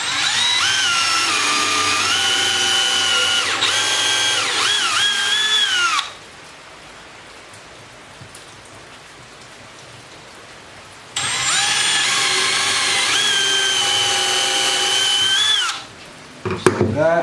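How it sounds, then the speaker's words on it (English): A power drill bores countersink holes into a wooden drawer face, running loud and close in two long whirring bursts separated by a quiet pause, with a short clatter at the end. "So now I'm just going to drill a couple of countersink holes"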